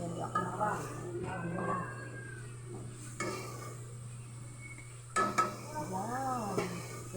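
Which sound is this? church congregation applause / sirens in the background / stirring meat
stirring meat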